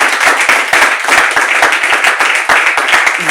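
A studio audience claps steadily and densely, with sharp hand claps close by, sustained throughout without any speech.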